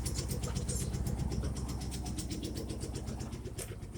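A Cadillac 5.7 Vortec V8 with straight pipes idles just after a cold start, a loud, close, rough and rapid exhaust pulse with a failing oil pump, running steadily with no talk.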